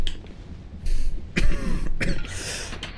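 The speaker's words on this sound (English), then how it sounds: "I stopped to cough." A person coughs and clears their throat while playing a Dark Souls 2 game session, several harsh close bursts separated by short pauses.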